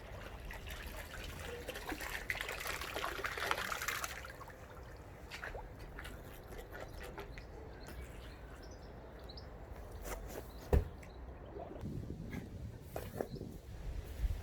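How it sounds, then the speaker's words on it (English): Water trickles and drips through the plastic pipework of a homemade pond filter as a ball valve is opened, a soft steady flow with scattered drips and one sharp knock, fairly faint and without speech. "the ball valve allows me to turn the water on and off"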